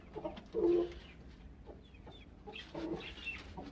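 A hen clucks near a cage of eggs among pigeons and parrots, giving a few short throaty clucks in separate bursts with quiet pauses between.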